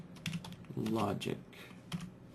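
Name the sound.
typing on a computer keyboard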